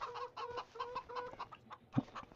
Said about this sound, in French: On a nos poules, nos cocottes.